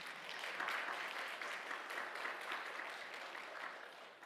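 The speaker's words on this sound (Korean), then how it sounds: "여러분들 환영의 박수 올리시면 감사하겠습니다" Church congregation applauding to welcome a new ministry couple at Sunday worship, a steady, dense wash of many hands clapping throughout, fairly even in loudness from start to finish.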